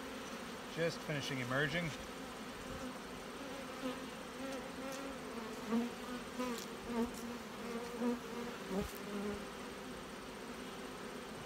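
Honey bees hum steadily around a brood frame pulled from the centre of a hive, a close, continuous buzz with wingbeat tones shifting in pitch, while someone speaks quietly over it.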